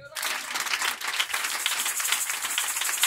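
A church congregation breaks into sustained applause and clapping, dense and steady throughout, with some cheering voices mixed in.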